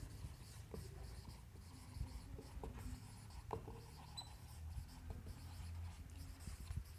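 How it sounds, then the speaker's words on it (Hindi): Chalk or a marker scratches and taps on a board in short, irregular strokes while a chemistry lesson on ethers is written out. The sound is faint and close, over a low room hum, with no talking. "तो यहाँ लिखेंगे"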